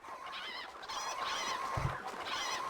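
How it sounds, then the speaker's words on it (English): Chickens in the medieval castle-building game Stronghold: Crusader Definitive Edition, several agitated honking, squawking calls in quick succession over a faint background, with no one talking. "Chickens are going crazy."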